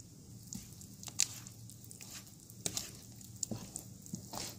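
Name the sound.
stirring koki bean mixture in one direction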